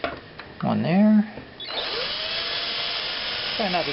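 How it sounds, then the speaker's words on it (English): A power drill bores a couple of holes for a zip-tie repair. A person talks briefly at first, then the drill gives a steady, close, high whine for about two seconds before the voice returns. "carefully drill a couple holes."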